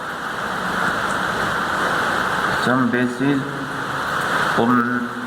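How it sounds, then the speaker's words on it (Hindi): Steady rain falling outdoors makes a continuous hiss throughout, with a voice speaking over it partway through. "बारिश आ गई, 1 मिनट"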